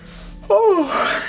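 A sharp, breathy inhale through the throat with a rough, airy rasp, close and fairly loud, following a brief quiet stretch.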